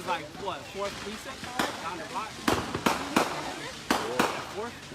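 Sharp, distant bangs of fireworks and firecrackers set off on the Fourth of July in St. Paul, Minnesota, popping irregularly across the scene while people talk nearby.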